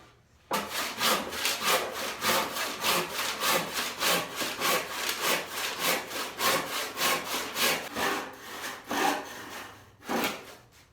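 A hand saw cutting through a wooden board in a woodworking shop, with steady rhythmic rasping strokes, close and loud, running continuously and then slowing to a few last strokes near the end.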